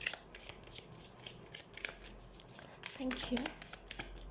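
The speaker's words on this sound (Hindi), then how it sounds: "तो सबसे पहले हम कार्ड शफल कर लेते हैं।" Tarot cards shuffled by hand in quick, crisp riffling bursts, close and fairly quiet, with a brief spoken thanks near the end.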